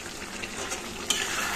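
Fried potatoes tumble into browning chicken curry in a pan, with a steady close sizzle under stirring scrapes and a sharper clatter partway through.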